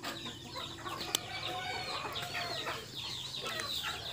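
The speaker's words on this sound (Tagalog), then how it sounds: "Muna iyang mga manok." Chickens clucking close by on a Philippine home yard, steady overlapping clucks and short calls filling the whole stretch at moderate level, with a faint rooster-like call mixed in and no speech.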